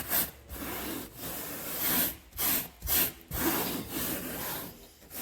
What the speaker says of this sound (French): je prends la brosse. Et là, gentiment, vous voyez, je frotte pas très fort